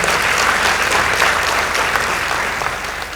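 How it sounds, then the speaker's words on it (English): Audience applause for a high school team after scores are announced at a 2018 debate competition, a loud, steady wash of clapping throughout that fades slightly toward the end. "Let's give them a round of applause."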